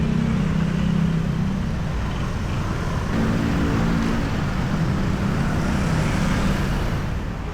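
Street traffic in Pattaya, Thailand: a loud, steady roadside rumble of passing cars and motorbikes with low engine drones rising and fading, continuous throughout with no talk.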